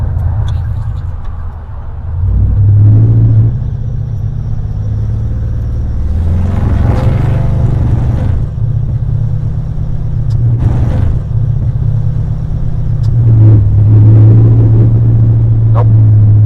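A 1950 Cadillac hearse engine runs rough, apparently from a plugged fuel injector, with a loud, steady low rumble that surges and falls unevenly, never settling to a smooth idle, while people talk nearby.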